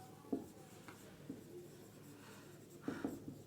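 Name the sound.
writing on a board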